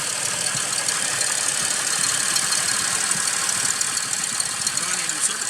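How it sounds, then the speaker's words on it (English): A 2005 Toyota Highlander engine with a misfire idles rough, close and steady, with a continuous hum and faint uneven knocking under a broad, hissy background. "It's running rough. But with the misfire, it still starts up."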